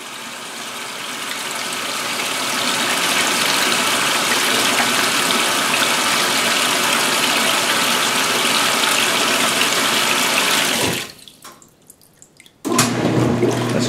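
A 2016 Speed Queen washing machine filling with water for the rinse: a steady, loud gushing rush of water into the drum that runs for about eleven seconds, then cuts off abruptly before a brief resumption.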